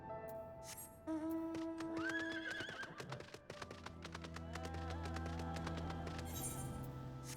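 Horses neigh and whinny in sharp rising calls in Final Fantasy XIV, mixed with clopping hooves and clicking game effects over a low steady tone.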